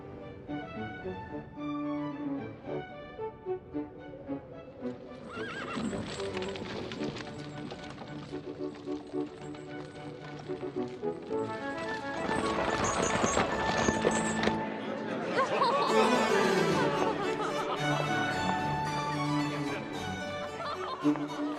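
A horse-drawn carriage rolls along with hooves clip-clopping in a steady rhythm beneath orchestral music and a voice, growing louder partway through.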